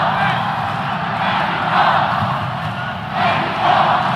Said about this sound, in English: you can hear the crowd chanting Mexico, supporting Persephone, wanting her to win